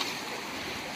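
Water rushes steadily at Ramapuram waterfall near Tirupati, a continuous broadband wash of flowing water that stays even throughout the short moment, with no voices.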